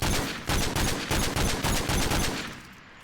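M21 EBR sniper rifle in Call of Duty: Future Warfare fires six loud, evenly spaced shots in quick succession. The last shot fades out with no voices.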